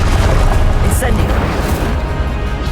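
A fire spell bursting in the video game Hogwarts Legacy, a dense, loud whooshing roar that fills the moment with a sharp flare near the start, while a voice speaks over it.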